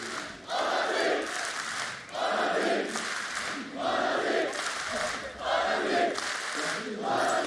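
Large arena crowd at a Valorant esports match, DRX versus Fnatic at VCT Champions 2022, roaring and chanting in steady rhythmic surges that swell and dip about once a second, loud and sustained with no talk over it.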